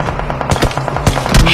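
Gunfire in a shooting video game, a fast close burst of automatic rifle shots with sharp repeated cracks over about a second and a half, loud with no talk.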